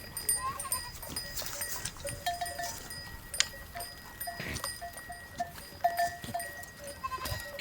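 Goats and sheep bleat in short, scattered calls over a faint outdoor background in a remote Pakistani village, with a soft bell clinking and a murmur of voices now and then.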